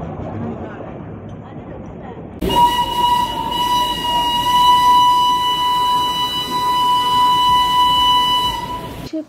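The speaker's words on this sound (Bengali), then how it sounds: "এরপর আবার ট্রেনে চেপে রওনা দিলাম ঘুম স্টেশনের দিকে।" Darjeeling toy train running toward Ghum station sounds a long, steady horn that starts abruptly after a few seconds of rumbling carriage noise and holds loud and close for several seconds before cutting off.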